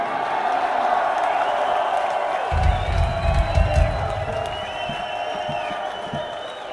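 Concert crowd at a show in Worcester cheering and whooping, a loud sustained roar that swells midway with some applause.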